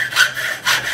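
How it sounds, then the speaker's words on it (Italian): An ordinary hacksaw cutting a workpiece by hand, two rasping strokes close up with a short pause between them, steady and fairly loud with no voices. "Ora questa è una sega a ferro normale. Se noi tagliassimo con questa,"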